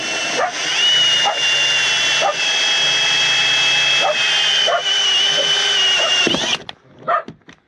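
A dog barking in a motorhome while a drill bores through plastic, sharp barks repeating about every second over a loud, steady high-pitched drill whine that stops near the end, followed by a few scattered barks.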